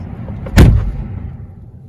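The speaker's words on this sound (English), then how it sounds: "I'm gonna slam this door shut on you." A Tesla Model 3 Highland car door slammed hard, one loud, close thud that cuts through quiet ambient noise and dies away quickly.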